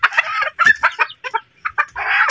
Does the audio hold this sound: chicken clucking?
yes